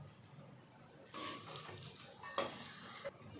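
A spoon stirs curry with fried lentils in a pan, scraping and clinking against the metal in a few distinct strokes over a low background sizzle.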